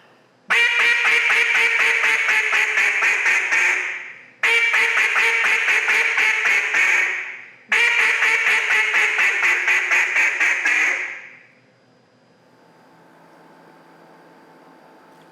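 Three loud, sustained bursts of nasal, duck-like keyhole filtering from a BSOD effect pedal, each cutting off or fading before the next, are followed by a few seconds of low hiss with no voices.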